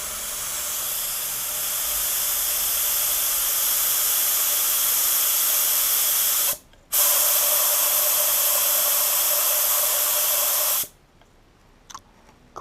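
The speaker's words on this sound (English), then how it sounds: "I am actually going to start spraying" An Aeropro 610 budget paint spray gun, run at about 23 psi from a compressor, releases a steady loud hiss of compressed air that breaks off briefly, resumes, then stops, leaving near silence with faint clicks.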